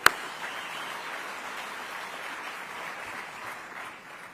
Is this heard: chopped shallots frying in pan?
no